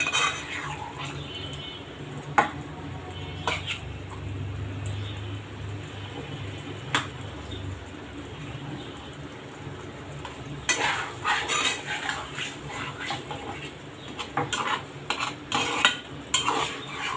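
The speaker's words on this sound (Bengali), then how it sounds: "নাড়াচাড়া করে মিলাই নেই আগে, কারণ মাছটা আবার নরম হয়ে গেলে তখন আর নাড়াচাড়া করা যাবে না।" Fish stirred in a hot frying pan: a steady low sizzle with scraping and clinking from the utensil against the pan. The sharp taps get busier toward the end. Close and fairly quiet, with no talking.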